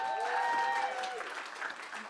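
An audience claps during a community music event before an intermission, a short burst of applause with some voices and tonal sounds mixed in, fading slightly toward the end.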